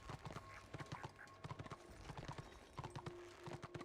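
Horse hooves clip-clop steadily in the Return of Reckoning video game while riding, a rhythmic run of close, distinct hoof strikes throughout with faint background game tones.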